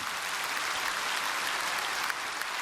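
A church congregation applauds a visiting singer during a service, with dense, sustained clapping from a large crowd filling the hall evenly.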